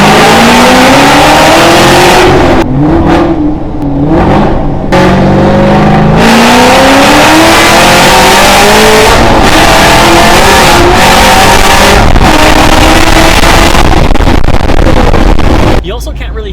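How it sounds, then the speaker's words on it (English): A supercharged Ford Shelby GT500 roars under hard acceleration, its loud exhaust note climbing through the revs with brief gaps at gear changes, up close and dominating for the whole stretch. "Let's get some exhaust notes here."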